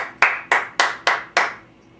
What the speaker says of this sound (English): Everybody give Bob a round of applause.